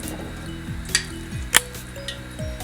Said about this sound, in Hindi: अभी हम तड़का डाल रहे हैं।